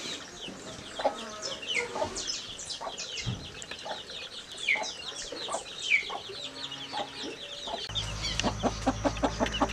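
Chickens and chicks cluck and chirp in a busy, overlapping chorus on a farm, with a brief rapid burst of repeated clucks near the end.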